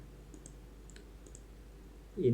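A computer mouse clicks several times, soft and close, during a cloud computing walkthrough, with a brief louder sound at the end.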